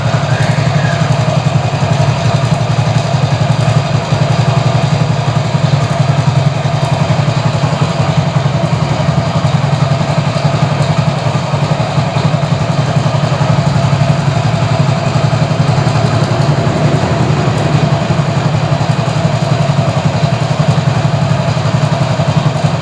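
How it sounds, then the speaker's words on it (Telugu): A motorcycle engine running at low rpm after a carbon-cleaning fuel additive is dosed, idling loud and close with a steady, rough, continuous chug and no talking. "ఆర్పిఎం తక్కువ ఉంటే బైక్ ఆఫ్ అయిపోతుంది."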